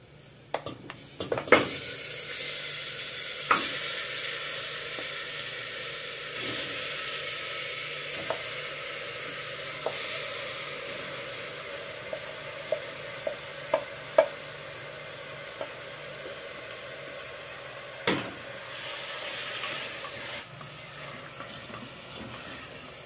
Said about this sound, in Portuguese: Agora eu vou colocar a nossa carne aqui pra refogar